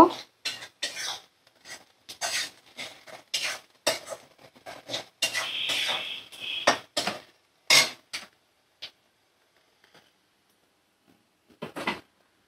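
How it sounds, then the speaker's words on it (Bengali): Spices are stirred in a pan for a dried prawn dish, with repeated scraping and rubbing strokes in uneven bursts, then pauses, falling silent before one last short scrape near the end. "ওই সমস্ত মশলা ভালো করে নাড়াচাড়া করে মিক্সড করে নেব।"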